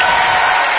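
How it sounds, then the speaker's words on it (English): Basketball arena crowd at the Butcher Center roaring in a loud ovation, a dense sustained wall of cheering and applause, close and overwhelming for under a second. "getting a loud ovation from the crowd here at the Butcher Center"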